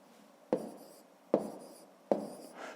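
Handwritten numbers going down on paper while working a subtraction problem: three short, distinct pen strokes, each a sharp tap with a brief scratch after it, evenly spaced against a quiet background.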